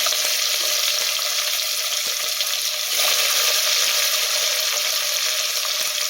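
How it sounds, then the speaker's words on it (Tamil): Onions and green chillies frying and sautéing in a pan, a loud continuous sizzle with occasional soft scrapes and clinks of stirring, close up and without speech. "வெங்காயம் வந்து நல்லா வதங்கலாம்"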